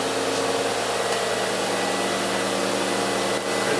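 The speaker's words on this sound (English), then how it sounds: "This is a simple little electric wood chipper." Small electric wood chipper granulating dried corn, a steady loud motor whir mixed with dense grinding and rasping of kernels, constant throughout with no talking.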